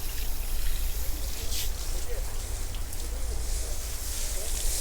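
Water sprinkled and showered over potted succulents, a steady pattering trickle like light rain on leaves and soil, close by and continuous with a few brighter splashes.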